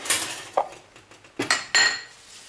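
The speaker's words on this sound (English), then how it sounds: "put everything in the food processor" Ingredients such as basil, pumpkin seeds and salt go into a food processor bowl, with a few clinking knocks and clattering drops of utensils and dishes, close and fairly quiet.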